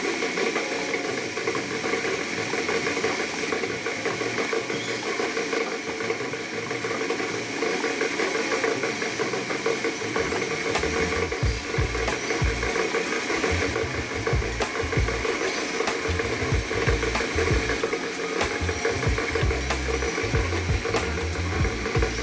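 A DC-motor tape machine winds 1-inch video tape with a steady mechanical whir and faint ticking, a constant broadband hum that grows busier as the reels speed up, with no voices.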